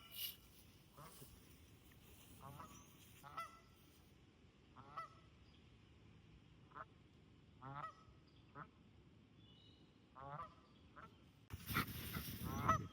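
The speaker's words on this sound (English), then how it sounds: "Several geese." Several geese by a pond let out honks and quacks, a series of short, fairly distant calls spread across a quiet outdoor scene, ending in a burst of rustling noise.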